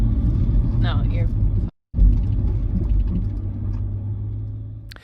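A Land Rover Defender 110 stuck in sand rumbles with a loud, low engine drone as its wheels spin, briefly cutting out before resuming; a voice speaks faintly over it near the start.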